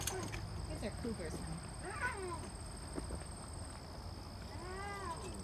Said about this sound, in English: These are cougars.